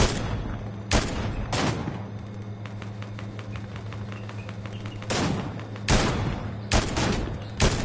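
Gunfire in the video game Fortnite: loud, close bursts of shots ring out in irregular clusters over a steady game soundscape, with a run of lighter rapid pops in the middle.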